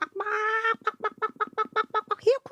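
Farmyard chickens cluck close by, a sustained squawk followed by a quick steady series of short clucks ending in a rising call, loud and unaccompanied.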